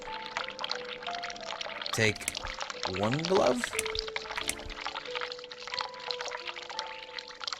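Game sound of water pouring from a sink tap in The Cat Lady runs as a steady hissing stream under a person talking, with brief tonal effects mixed in.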